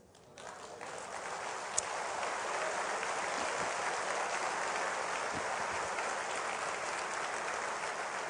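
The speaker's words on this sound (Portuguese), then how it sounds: "Por isso, ele vai receber o nosso aplauso agora." Church congregation applauding, a sustained wash of many hands clapping that swells in after a brief quiet start and continues steadily at moderate distance, without any talk over it.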